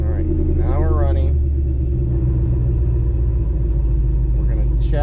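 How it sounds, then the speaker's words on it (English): A Ford car with a misfire fault idles with a loud, steady low rumble throughout, while someone speaks briefly at the start and again at the end. "All right, now we're running."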